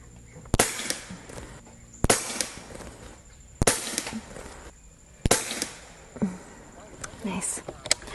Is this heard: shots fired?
yes